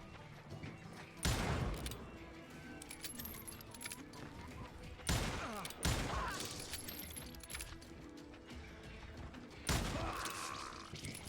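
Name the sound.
gunshots in video game Call of Juarez: Gunslinger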